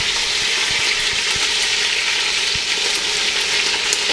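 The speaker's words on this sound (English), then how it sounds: "Now I'm turning the lamb over because it's getting browned on the first side." Pieces of lamb browning in a hot pan alongside onions, a loud, steady, dense frying sizzle that continues unbroken at close range, with a few faint knocks underneath and no voices.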